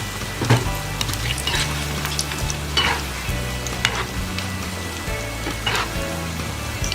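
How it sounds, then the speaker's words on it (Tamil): Potato bondas fry in hot oil with a continuous, close bubbling sizzle, dotted with sharper crackles and a few clinks of a utensil, steady and moderately loud throughout. "போண்டா நல்லா வெந்து கோல்டன் கலரில் வந்துடுச்சு."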